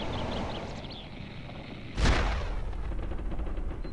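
Cannon and rocket fire in the airship combat game Air Buccaneers: one loud, sharp blast rings out midway and trails into a rumbling decay, with fainter distant shots and battle noise running throughout.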